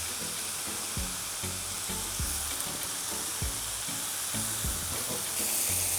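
Canned tomatoes go into a hot pan with oregano, giving a steady, close frying sizzle broken by a few soft squelching thumps and stirs, with no talking.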